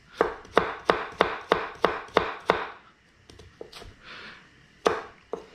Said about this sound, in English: stack them up a few at a time, cut them into matchsticks